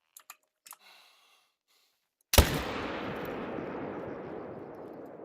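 In the hunting video game theHunter: Call of the Wild, a single loud rifle shot is fired at a large tier-8 animal in Sundarpatan, with a long fading echo after it. A few faint clicks come first, then near silence.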